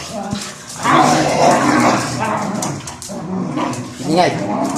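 Dogs wrestle and play-fight nearby with a noisy mix of growls, yips, whimpers and short barks, dense and constant with no pauses.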